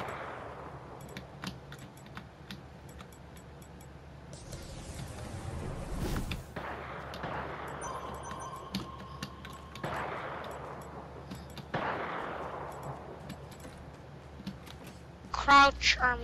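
Gunfire in the video game Fortnite during a Prop Hunt match: scattered shots and bursts, some sharp and others distant, ring out under the players' voices over several seconds.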